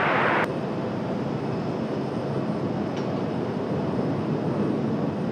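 An Icelandair 767 airliner arriving at Raleigh-Durham airport gives a steady, broad roar that holds evenly throughout, preceded by a brief brighter burst at the very start.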